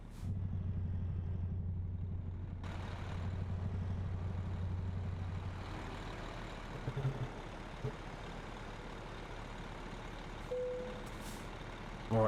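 A truck reverses in American Truck Simulator, its engine rumbling low and steady while an air brake hisses and a short reversing beep chirps near the end.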